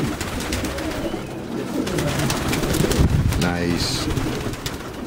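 Red Danish pigeons coo inside a loft, soft throaty rolling calls close by, with a brief human voice and rustling around them.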